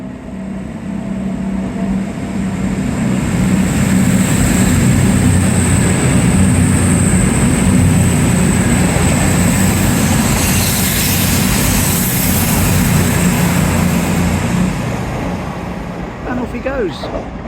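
A train rolls through Dawlish station on the far platform, a loud, steady rumble with a high whine that holds for many seconds before easing off.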